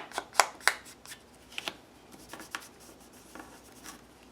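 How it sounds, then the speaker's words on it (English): Distress ink rubbed onto paper cards by hand, giving dry scuffing and dabbing strokes, a few sharp taps early on, then softer intermittent rubs, close and quiet. "I'm just going to grab my distress ink and just play with grunging the cards up"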